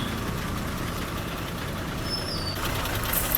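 A TV1 bus from the Tirunelveli 1 depot, running the Tiruttani to Tiruchendur route, holds a steady, close diesel engine rumble that stays even throughout with no talk.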